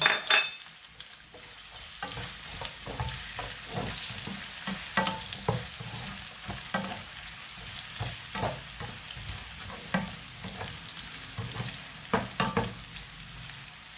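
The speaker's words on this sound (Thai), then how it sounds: "พอผัดขิงกับกระเทียมของเราหอมแล้วนะคะ" Ginger, garlic and carrot stir-fry in a pan, a soft continuous sizzle under regular clicking scrapes of a utensil against the metal, moderately quiet with no voices.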